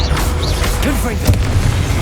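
In a wizarding action video game, a blasting curse explodes in a loud, punchy boom, with crashing impacts and rising magical whooshes scattered around it. A voice also sounds in the clip.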